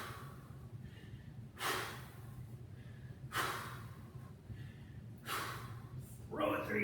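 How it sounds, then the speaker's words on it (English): Heavy breathing from someone doing kettlebell swings in a workout, three loud, breathy exhales spaced about every two seconds over a steady low hum. "Hear my breathing."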